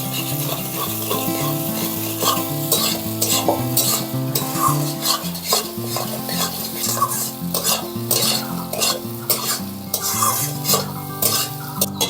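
Spice masala being stirred and fried in a pan over a wood-fired stove for a rohu fish curry: steady close scraping and sizzling strokes, continuous throughout, with tonal music playing underneath.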